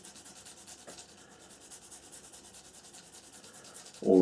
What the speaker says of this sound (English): what we're doing while we're sanding here